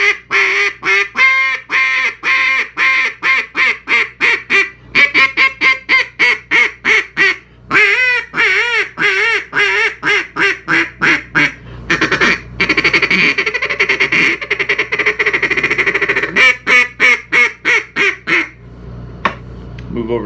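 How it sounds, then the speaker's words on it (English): Single reed duck call blown in a string of loud, crisp quacks, first in quick rhythmic bursts and then in longer sustained runs, very close and alone with no talking. "The single's a little bit louder, a little bit crisper"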